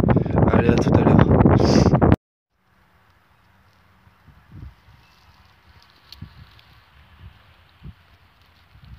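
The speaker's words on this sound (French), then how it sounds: "Il y a du vent" Wind in an open field: about two seconds of loud, roaring gusts buffeting the microphone, then a sudden drop to a quiet outdoor hush with faint soft rustles.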